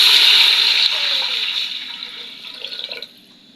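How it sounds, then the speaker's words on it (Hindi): Water poured from a vessel into a pot of soaked rice and browned onions, a loud splashing stream at first that thins and trails off into a few drips by the end. "पानी ऐड करेंगे इसमें"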